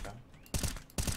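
Two sharp bursts of automatic gunfire in a PUBG-style shooter, set on a lake map, each a loud rapid volley; before them someone talks faintly.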